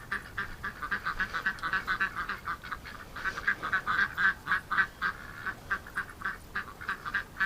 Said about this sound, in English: Hope she's quacking like crazy.